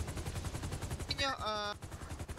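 Shotgun blasts in the video game GTA 5 come as a rapid run of sharp, close reports, with a brief tonal electronic sound partway through.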